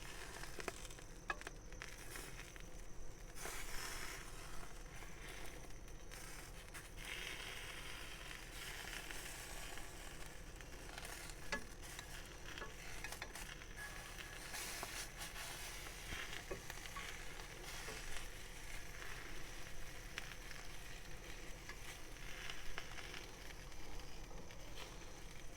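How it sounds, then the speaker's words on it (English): Thick sausages sizzle steadily on a barbecue grill, a continuous close crackling hiss with occasional faint pops and no talking. "we'll give the snags another bit of a turn. Got to keep them cooking evenly."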